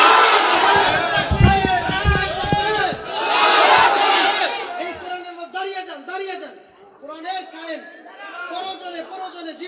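A large crowd at a Bangladeshi Islamic sermon gathering roars a takbir chant in unison, loud and close for the first few seconds. A preacher's amplified voice then carries on over quieter crowd murmur.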